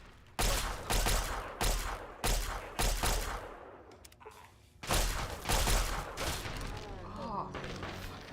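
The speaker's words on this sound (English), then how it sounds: "trying to do the laser pistol." Laser pistol fire in the video game Fallout 3: about six loud, sharp blasts in an uneven rhythm, then a softer stretch with more shots and lingering game sounds.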